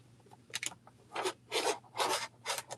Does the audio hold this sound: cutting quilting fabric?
yes